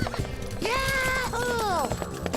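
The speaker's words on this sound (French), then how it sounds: "Et moi, j'aurai même un cheval." A cartoon horse gives a bright, wavering neigh in two rising-and-falling bursts, with quick clip-clop hoofbeats in front of it and around it, all short and close.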